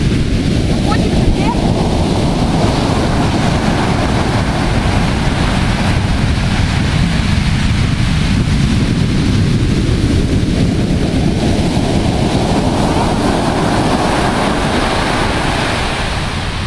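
Stormy Black Sea surf at Sukhumi, with four-metre waves crashing in a loud, continuous roar and heavy wind buffeting the microphone throughout.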